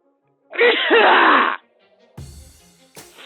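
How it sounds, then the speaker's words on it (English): A single loud sneeze bursts out, followed by brief rustling and quiet handling noises close to the microphone. "I gotta sneeze"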